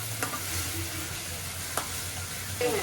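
Onions sauté with ginger garlic paste in a pan for squid gravy, giving a close, continuous sizzle broken by a few spoon scrapes and taps against the metal, with no talking.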